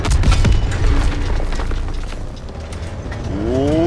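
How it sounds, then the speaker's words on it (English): Heavy tank in a Call of Duty WW2 battle rumbling and clanking closer, a low mechanical grind and creak under a distant boom, rising toward the end. "Oh, tank dolazi!"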